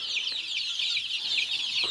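A turkey hen tending a brood of chicks clucks, with shrill peeping from the chicks running continuously throughout, nearby and fairly loud.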